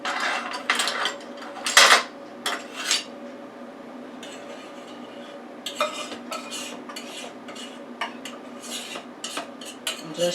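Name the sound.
scraping pecan pie mixture into a dish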